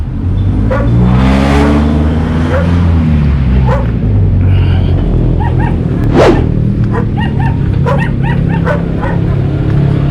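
A big dog at a property with bahay kubo huts whines and yelps in long, drawn-out cries, then gives a few sharp barks, close and loud, over steady outdoor background noise.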